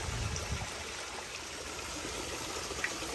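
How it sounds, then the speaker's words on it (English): Water from a backyard koi pond waterfall runs and trickles in a steady, fairly close rush with no breaks. "Waterfall."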